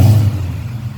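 A 2012 Mustang GT with a Cobra Jet intake and Magnaflow exhaust revs on a dyno, giving a loud, close, steady low engine roar that eases slightly over one second.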